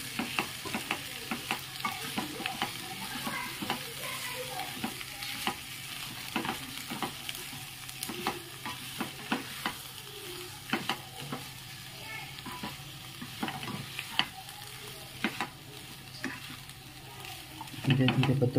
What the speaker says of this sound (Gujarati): હવે ગેસ બંધ કરી દઈએ તો એ પણ ચાલે, ખાલી આપણે મસાલો શેકવાનો હતો.